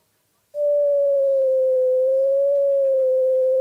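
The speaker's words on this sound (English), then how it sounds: "What you are hearing is the brightness change of that red glowing diamond." A steady, pure electronic tone begins abruptly after a brief silence and holds at constant loudness, wavering slightly in pitch as it tracks the changing brightness of a red glowing diamond, with no other sounds.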